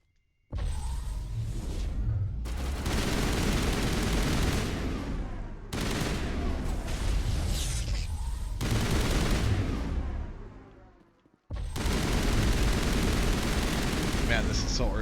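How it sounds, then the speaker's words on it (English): An assault rifle fires in long, dense sustained bursts while fighting Geth on Feros in a video game, loud and close, with short pauses between volleys and someone talking over it. "Man, this assault rifle is insane."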